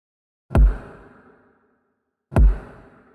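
Two processed kick drum hits in a beat-making sample, each a deep punchy thump followed by a spacious washed-out reverb tail, spaced about two seconds apart with silence between.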